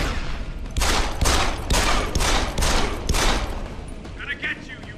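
Shotgun fire in Deus Ex: Human Revolution, with about six loud, booming blasts in quick, uneven succession, then a quieter tail with a few faint mechanical clicks.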